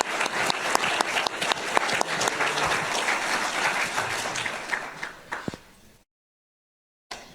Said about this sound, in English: Let's give all of our candidates a big round of applause.